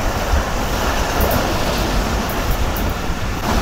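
The Karakoram Express, an old-coach train hauled by locomotive GU49010, running at high speed, heard as a loud continuous rumble and rattle of carriages with steady wheel noise from on board.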